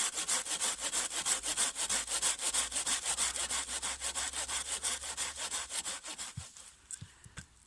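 A hand saw cuts through a wooden log at a knot, shaping a simple natural mallet: quick, steady back-and-forth rasping strokes for about six seconds, then the sawing stops with a few scattered knocks.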